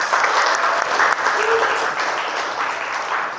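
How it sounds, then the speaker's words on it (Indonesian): Audience applause for a classmate in a classroom: steady, dense clapping from a group, fairly close and sustained at an even level throughout. "Aplaus untuk teman kita."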